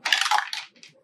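A single die is rolled, clattering briefly across a hard surface in a quick burst of close, faint tumbling clicks that settle within about a second.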